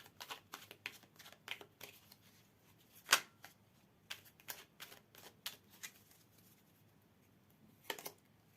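Tarot cards drawn and slid from a deck, a soft papery flick followed by scattered light card handling taps, one sharper snap near the middle and another toward the end, close and quiet with no talking.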